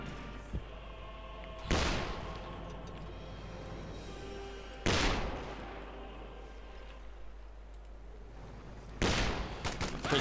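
Company of Heroes 2 battle with riflemen firing BARs and throwing grenades against Sturm Pioniere: three sharp, loud explosive blasts spaced a few seconds apart, with lighter scattered gunfire and rumble between them.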